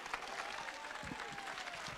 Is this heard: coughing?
no